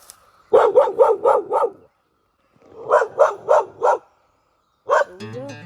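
A farm dog barks at a trapped raccoon in two quick bursts of five sharp barks each, separated by a short pause, then ends with one more bark and a whine.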